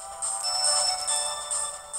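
A bright electronic chime-like jingle from the Mega Man Star Force 3 video game signals a received email, a short melodic ringtone-style tone pattern lasting about two seconds, clear and alone.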